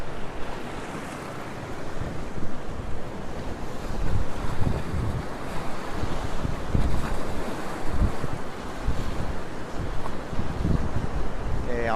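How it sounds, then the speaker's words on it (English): Strong gusty wind buffets the microphone with a constant roar, over the wash of surf breaking along the shore at Currumbin Beach, Queensland. "It's very, it's not very nice, it's just so windy."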